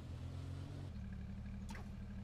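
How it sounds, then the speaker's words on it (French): Quiet car engine in the H1Z1 video game, a low steady motor drone that shifts down about a second in, with a brief whooshing sweep later; no voices. "je reste un peu à l'écart, peut-être le bruit de la voiture."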